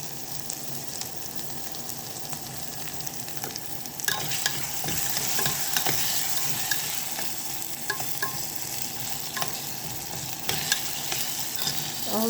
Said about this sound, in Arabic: هنفضل نقلب كده